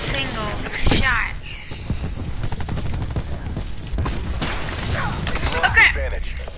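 Automatic SMG fire in Call of Duty Black Ops 4, loud, rapid bursts rattling on and off under a player's continuous chatter, with a few sharper impacts mixed in.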